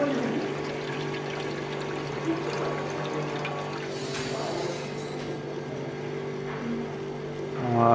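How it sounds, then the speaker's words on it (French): Steady water flow through the water-cooled condenser of a finger-type ice machine, a continuous pouring and trickling wash over a constant mechanical hum, with the flow rate turned up. "j'ai augmenté un peu le débit d'eau pour aller un peu plus vite."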